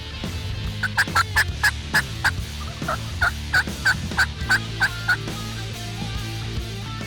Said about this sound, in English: he stood there and strutted and gobbled a time or two